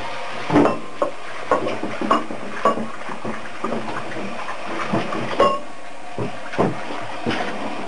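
Clattering of a metal pot being scrubbed and knocked about, with scattered clanks and a faint wash of water running throughout.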